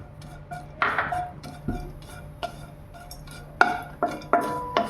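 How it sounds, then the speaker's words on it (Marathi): Dry fruits roast in hot ghee in a pan for rose beetroot rice kheer, with a quiet sizzle beneath repeated close clinks and scrapes of a spoon against the pan, and no talking. "त्याच्यामध्ये आता आपण ते ड्रायफ्रूट्स थोडेसे भाजून घेऊया."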